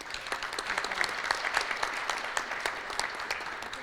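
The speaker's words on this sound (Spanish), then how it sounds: "Demos un fuerte aplauso a todos los panelistas." The audience at a mining and plenary conference session gives the panelists a round of applause: a crowd clapping hard and fast, with individual sharp claps standing out over a steady dense patter for several seconds.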